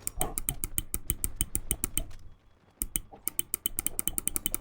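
Rapid, crisp clicks from a Logitech G Pro X Superlight 2c gaming mouse switch repeat in quick succession, close up, with a brief pause midway before the clicking resumes.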